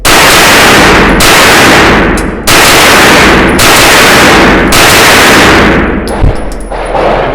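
Rapid fire from a Ruger PC9 9mm carbine, with five loud, close shots spaced about a second apart, each followed by a long ringing decay, and a faint metallic clink near the end.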